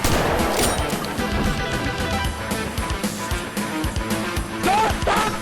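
Rapid video-game gunfire rattles continuously in dense automatic bursts, loud and close, with overlapping shots throughout.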